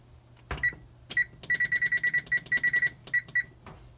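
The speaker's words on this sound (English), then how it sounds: "So we'll set a 15-minute timer and we'll come back." A kitchen timer alarm goes off while chicken is being prepared, sounding as repeated bright electronic beeps in quick bursts with short pauses, clear over a low background hum.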